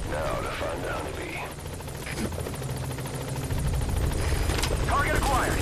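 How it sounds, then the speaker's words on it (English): A tactical support helicopter in Metal Gear Solid V: The Phantom Pain thumps steadily overhead with loud rotor chop and engine whine, joined by brief bursts of gunfire and game radio chatter. "The tactical helicopter is giving me great support."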